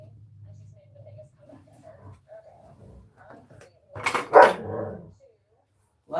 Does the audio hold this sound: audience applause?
no